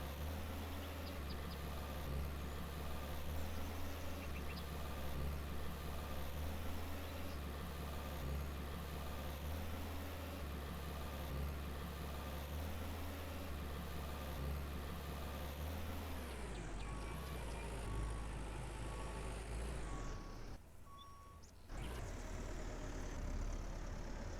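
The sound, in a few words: vehicle engine loop sound from Farmer's Dynasty video game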